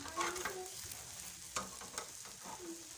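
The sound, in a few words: breakfast frying in a pan while being stirred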